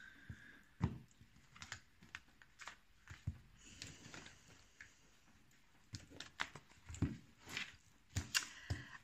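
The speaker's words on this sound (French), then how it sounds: "je mélange bien les cartes" Tarot cards being shuffled at close range, a quiet run of soft papery flicks and taps in irregular bursts, with no talking over it.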